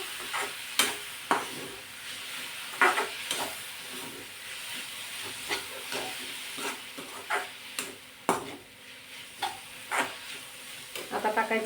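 White potato gets stirred into an aloo vadi mixture in a pan, with repeated spoon scrapes and clinks over a soft sizzle. Toward the end the scraping becomes quick and rhythmic.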